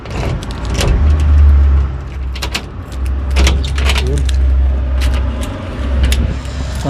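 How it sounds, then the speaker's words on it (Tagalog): Keys jangle in sharp, repeated bursts while the main door of a new home in Australia is unlocked, heard close and loud over a steady low rumble like passing traffic. "unang try natin ng susi"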